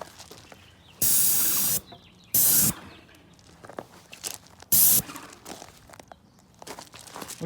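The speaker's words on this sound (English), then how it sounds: "So you want to try and keep parallel when you're spraying." Paint sprayer hissing in three loud, distinct bursts of about half a second to nearly a second each as it coats cabinets, with quieter handling noises and light rustling between passes.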